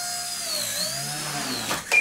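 Tiny Nano S3 drone motors whine indoors in a house, a thin high-pitched tone that dips and wavers as the motor RPM sags, ending in a couple of brief bumps.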